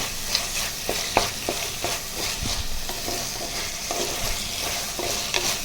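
Tomatoes sauté in a clay pot while a spoon stirs them, steady soft sizzle under repeated scraping strokes of the stirring, no talk.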